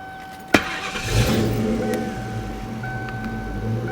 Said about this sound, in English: Let's awaken the beast.